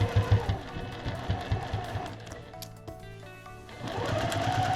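A sewing machine stitches fabric triangles for a table runner with a quick rhythmic mechanical whir and thump, close and steady. It pauses briefly with small clicks, then the motor hums back up.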